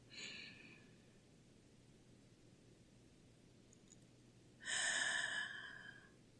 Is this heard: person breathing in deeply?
yes